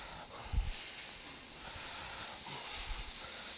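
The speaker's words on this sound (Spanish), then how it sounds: "Que se vaya sofriendo." A tortilla fries in adobo sauce for enchiladas placeras, giving a steady, close, bright sizzle and hiss that runs throughout with a few low bumps.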